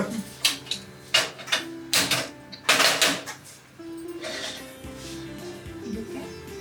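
A gas stove igniter clicks in a quick uneven series of sharp snaps near the cook, followed by a softer, steadier background with a faint voice.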